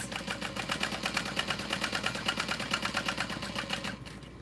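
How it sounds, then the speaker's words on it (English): A sewing machine runs steadily, stitching a 7-inch zippered pocket onto a messenger bag with fast, even, rhythmic needle strokes close up. It stops just before the end. "what I like to do is sew 2 parallel lines"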